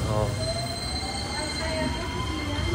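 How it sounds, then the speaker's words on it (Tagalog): A train departing a station in Osaka: steady rumble of wheels on rail with faint high squeals, moderately loud and close, with voices talking briefly over it. "Naiwan na tayo train."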